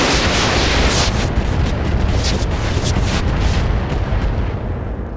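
Dense, continuous weapons fire and explosions from the video game Roguepoint, loud booms and bursts layered into a roaring barrage with no letup, no talk over it.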